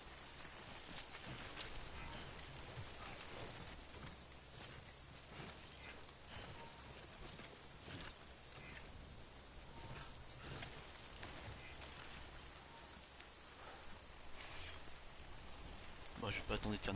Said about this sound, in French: je peux attendre que la pluie cesse?